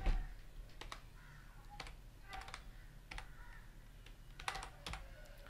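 Close computer keyboard typing in quick irregular bursts as a name is entered while designing a cover image, keys clattering over a low steady hum with no talk.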